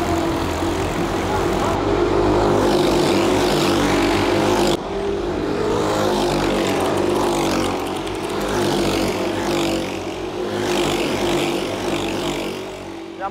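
Racing cars in a motorsport event roar continuously close by, engines droning and revving with layered overlapping engine tones and a brief dip midway, with voices talking underneath.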